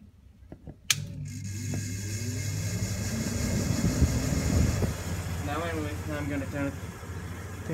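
A Rasonic window air conditioner clicks on and settles into a steady loud hum and fan rush with a low droning tone, while a person speaks over it in the second half.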